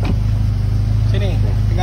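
Riding inside a Ferrari car: a steady low engine drone fills the cabin while people talk briefly over it.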